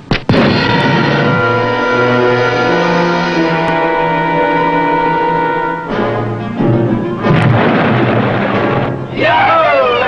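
A submarine torpedo launch opens with a sharp thump, then a long sustained loud tonal roar that cuts off near six seconds, followed by a burst of explosive noise and a rising whistling tone, alone without talking.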